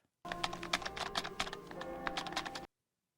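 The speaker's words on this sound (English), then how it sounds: "he's like actively typing on that" Rapid, close clatter of keys on an old laptop keyboard in a film scene, a steady burst of typing with no talk that starts and stops abruptly.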